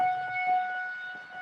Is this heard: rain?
no